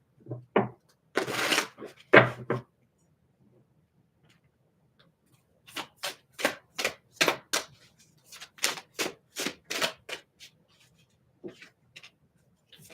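Reading cards from a situations deck are shuffled by hand in a quiet room, giving a few soft riffles followed by a run of crisp, separate flicks and taps close by.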